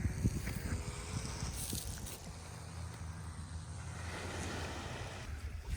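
Waves wash onto a beach near the harbor at Two Harbors on Catalina Island, a soft, steady surf rush with wind noise buffeting the microphone, moderately faint and with no talking.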